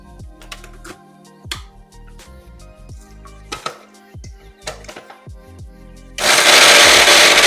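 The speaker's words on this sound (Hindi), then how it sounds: "फिर आपको इसे लगा के अच्छी तरीके से ग्राइंड कर लेना है" Light clinks and taps come first as roasted bitter gourd stuffing masala goes into a kitchen mixer grinder. Then the grinder starts with a sudden loud, close roar that runs to the end.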